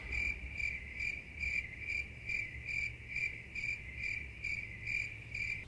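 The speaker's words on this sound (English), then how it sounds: "But I will give you weird cricket chirps." A cricket chirps in a steady, rapid, evenly spaced rhythm, faint and alone, repeating throughout with no other sounds.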